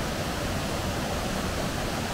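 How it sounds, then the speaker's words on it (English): A waterfall in Alva Glen gives off a steady, loud, broadband roar of rushing water that holds unchanged throughout, with no voices. "It sounds really loud though. I think there's maybe like a waterfall like around the back here."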